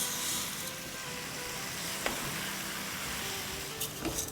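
Rice roasts in hot oil over a medium-high flame, giving a steady, close, crackling sizzle with a few small pops and no voices.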